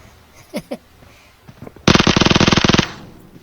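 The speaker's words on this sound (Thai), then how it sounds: "ยิงกันแล้ว" A short burst of rapid automatic gunfire in PUBG Mobile, about a second of loud evenly spaced shots, preceded by faint brief sounds.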